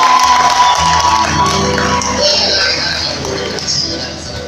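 Applause and cheering rise from a crowd at a lively gathering where a woman leader is honored, loud and sustained throughout with shouts and whoops mixed in.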